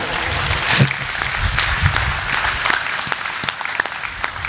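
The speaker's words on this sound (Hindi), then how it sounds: "तो एक बार जोरदार ताली बजाइए।" Loud, steady applause from the audience at a Hindi poetry recital, a continuous wash of clapping with a few sharper nearby claps standing out, and no speech over it.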